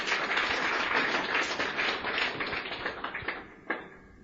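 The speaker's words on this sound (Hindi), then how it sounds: "तालियां बजा दें इनके लिए एक बार।" An audience at a seminar on edification breaks into applause, a dense burst of many hands clapping that holds steady, then thins and tapers off into a few last scattered claps.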